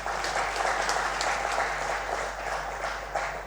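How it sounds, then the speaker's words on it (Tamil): An audience claps steadily together at a Tamil speaking event, a dense, even wash of hands that fills the whole stretch at a fairly loud, close level with no voices over it. "அதுக்கு திருப்பி ஒரு கைத்தட்டுங்க."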